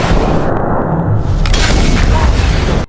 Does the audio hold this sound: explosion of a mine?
yes